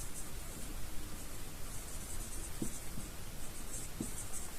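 Pen or chalk writing during a chemistry lesson, a steady soft scratchy rustle running throughout under a noisy, hissy background, with a couple of faint taps.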